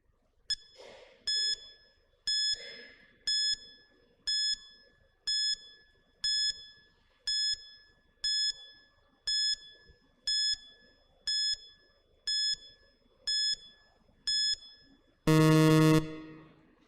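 Repeating electronic quiz timer alarm, about a dozen short bright beeps evenly spaced around a second and a half apart, ending in a louder sustained buzz.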